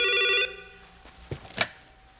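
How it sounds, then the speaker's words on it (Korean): Telephone ringing in a 1987 Korean TV drama, one short electronic trill that stops abruptly, followed by a faint handset clatter and a couple of soft knocks as the phone is picked up. "여보세요? 서진이 씨 댁이죠"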